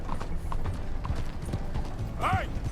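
Horse hooves clip-clop in a steady trot in Red Dead Redemption 2, loud and close over a dense game soundscape with a high whinny near the end.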